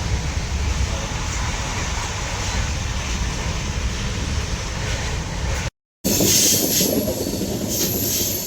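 A train heading to Varanasi rumbles along steadily with loud wheel noise and rattling, briefly cutting out before the rolling clatter resumes, near the Rajghat bridge.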